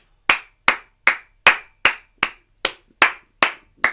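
A single person claps hands steadily, about ten sharp, evenly spaced claps, close and loud with no voices, at a live watch-along of a Manchester United v Villarreal Champions League match.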